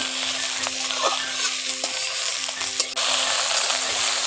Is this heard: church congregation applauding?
no